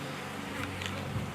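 Honey bees swarming around a hive frame during a swarm capture and hive check give off a steady, close insect hum with no talk over it.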